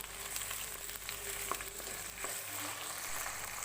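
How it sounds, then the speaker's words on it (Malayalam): Tomato fries in a hot curry pan with a steady, close sizzling hiss that holds evenly throughout, with a few faint clicks and no talking. "അപ്പം ഇതിലേക്ക് നമുക്കിനി തക്കാളിയും കൂടെ ചേർത്ത് കൊടുക്കാം"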